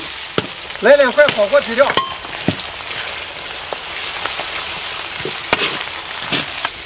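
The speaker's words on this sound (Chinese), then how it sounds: "葱姜蒜爆香，来点豆瓣酱，炒出红油" Scallion, ginger, garlic and bean paste sizzle and crackle as they are stir-fried in hot oil, a steady frying hiss under a man's brief speech, with occasional clinks of a utensil.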